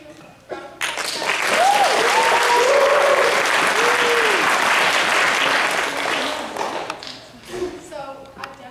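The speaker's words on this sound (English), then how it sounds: "Round of applause." A high school theatre audience applauds in a dense, sustained burst that swells quickly, holds strong for several seconds, then thins into scattered claps, with a few faint voices and whoops mixed in.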